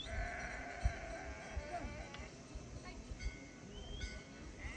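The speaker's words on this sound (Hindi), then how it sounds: "ये देखो कितनी सारी भेड़ बकरियां हैं" A flock of sheep and goats bleats repeatedly from several directions at moderate distance on a hillside near the Bharmani Mata temple, with overlapping calls and a voice talking over the steady outdoor backdrop.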